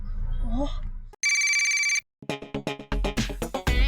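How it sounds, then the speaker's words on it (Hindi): A telephone rings during a call in a Hindi children's drama, one steady electronic ring burst lasting under a second, followed by voices talking. "मोंटू बॉस को फोन लगा"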